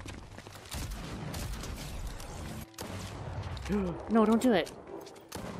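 Sharp gunshots in a Fortnite match after the Star Wars update, scattered single cracks mixed with mechanical clatter, while someone talks over the action.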